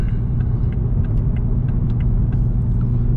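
Steady low engine rumble of a Toyota Supra, heard from inside the cabin while driving, a constant close drone with road noise and no talk.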